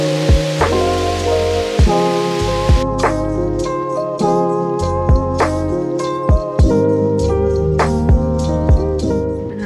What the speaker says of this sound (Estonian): praegu on mega padukas